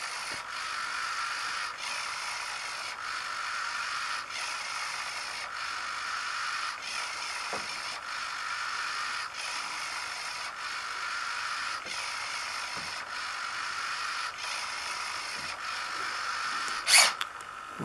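An RC servo sweeps back and forth at a higher speed during a burn-in run, giving a steady, regular mechanical whir with faint periodic ticks, close and continuous, with a brief sharper click near the end.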